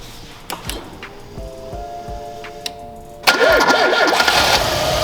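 Peugeot car engine starting after repairs: a whirring starter with a few dull knocks, then the engine catching abruptly and settling into a loud, steady running rumble.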